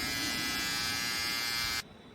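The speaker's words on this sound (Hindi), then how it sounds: "ये है बियर्ड ट्रिमर" A Virat Kohli edition electric beard trimmer buzzes steadily and close for under two seconds, then cuts off abruptly, leaving a faint background hiss.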